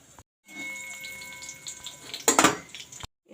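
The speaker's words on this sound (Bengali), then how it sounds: "কালো জিরা ফোড়ন দিয়ে দিলাম" Black cumin seeds dropped into hot oil for tempering, a short sizzle that starts quietly and flares into a loud burst of crackling near the end before cutting off.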